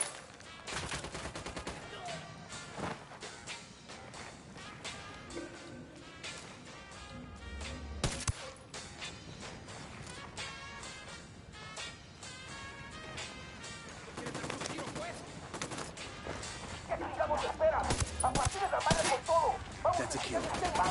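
Rapid gunfire rattles through a Ghost Recon firefight on PS4, dense overlapping bursts and single shots cracking nonstop, loud and close, growing more intense toward the end.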